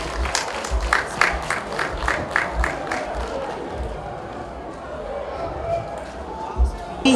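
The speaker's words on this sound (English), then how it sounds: "Please give them a round of applause." Round of applause from the audience at the Oniru coronation week medical mission gathering, scattered clapping with some cheering and crowd noise, uneven and rising in bursts, with talk partly mixed in.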